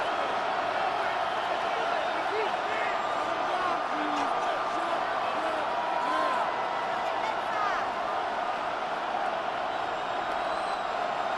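Stadium crowd noise from the Madden 26 video game during a Rams versus Bears divisional playoff simulation roars as a dense, constant wash with scattered whoops, while commentary voices talk over it.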